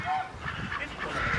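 Geese honk repeatedly in a loose, overlapping chorus at an open-air village museum, fairly close and steady throughout, with no voices.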